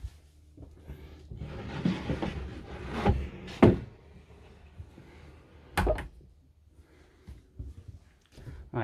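The door of a Carthago Chic C Line i5 3QB SL motorhome opens with a few dull knocks and clicks, then a sharp latch snap and scattered handling noises, moderately close and quiet.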